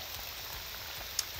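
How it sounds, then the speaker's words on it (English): Steady rain falling in the video game Morrowind, a soft continuous hiss of drops with one brief sharper patter, quiet and even throughout with no voices. "Of course, we arrived in the rain."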